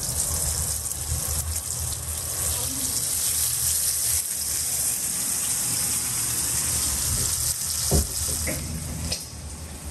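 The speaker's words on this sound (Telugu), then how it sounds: "ఇది జస్ట్ బేసిక్ ఫిష్ ఫ్రై." Fish spiced with salt, chili and turmeric frying in oil, giving a loud, steady sizzle close by, with a few clinks and scrapes near the end.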